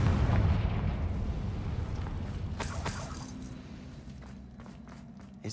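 Confringo blasting spell explosion in the Hogwarts Legacy video game, a deep booming burst at the start that decays into a long rumbling tail with scattered crackling debris.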